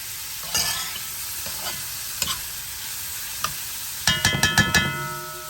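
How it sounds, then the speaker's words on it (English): Garlic and other ingredients for Cuban shrimp creole sauté in a pan with a soft continuous sizzle, punctuated by a few scraping stirs and a quick run of utensil clinks near the end. "raise the heat to a medium and let that saute for about a minute."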